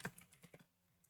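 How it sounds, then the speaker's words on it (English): Quiet computer keyboard typing, a few soft scattered clicks over about a second, close and alone. "I'm typing, you know, all those clickety-clackety noises"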